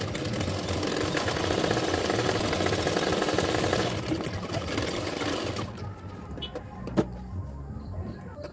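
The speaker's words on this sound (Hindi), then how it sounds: "अभी सिलाई कर रही हूँ" A sewing machine runs a continuous close, buzzing seam on a blouse for about five seconds, then stops, leaving quiet handling and a single sharp click.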